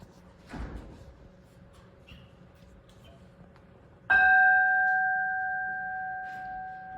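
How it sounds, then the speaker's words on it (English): A bell rung once at a Sunday church service, a sharp loud strike followed by a long ringing tone that slowly decays, after a quiet room with a brief earlier thump. "Somebody want to ring the bell, please?"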